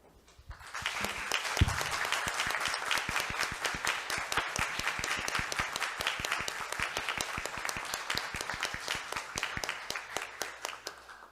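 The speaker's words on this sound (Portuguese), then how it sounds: "agora uma última homenagem ao Francisquinho, com uma salva de palmas de todo mundo, de pé, por favor" A council chamber audience at a municipal meeting in Bom Despacho, Minas Gerais, stands and gives sustained, dense applause for about ten seconds, starting quickly, holding steady and fading slightly at the end.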